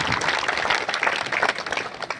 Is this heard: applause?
yes